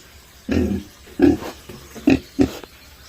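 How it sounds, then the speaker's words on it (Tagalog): Four short pig grunts in quick succession, close and fairly loud, each a brief low oink with quiet pauses between them. "Dakos baboy, magligo tas baboy."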